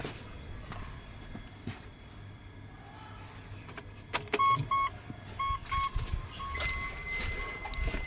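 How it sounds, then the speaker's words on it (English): Relays in a 2008 Mitsubishi Pajero click on and off with the ignition switched on, a series of faint, sharp clicks and short tonal pulses over a quiet background. "Relays are pulsing on and off. I can hear them."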